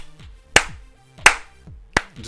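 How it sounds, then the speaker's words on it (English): Three slow, deliberate hand claps, evenly spaced about two-thirds of a second apart, sharp and close, against a quiet background with faint tonal music between them. "the hag just kind of is clapping, kind of like proud"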